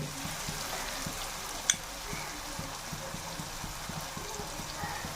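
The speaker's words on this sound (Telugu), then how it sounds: "అల్లం పచ్చి పచ్చివాసన పోయేదాకా బాగా వేపుకోవాలి" Ginger garlic paste fries in a pan for a Nellore-style fish curry, a faint, even sizzle with soft low bubbling pulses and one short clink.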